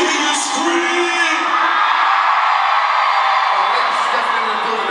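A large concert crowd screams and cheers at a Flo Rida live show, a loud sustained roar of high-pitched voices filling the whole stretch.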